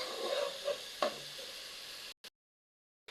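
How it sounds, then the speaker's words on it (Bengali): Red lentils (masoor dal) sauté in a pan, giving a soft close sizzle with a couple of stirring scrapes for about two seconds before cutting to silence. "এই মুসুরের ডালগুলো আগে একটু কষিয়ে নিতে হবে।"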